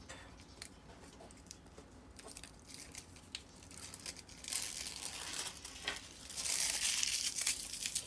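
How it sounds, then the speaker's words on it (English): Plastic film peeled off a diamond painting canvas, a close, quiet crinkling and tearing that starts faint and grows louder and brighter toward the end. "And then peel the plastic off the top."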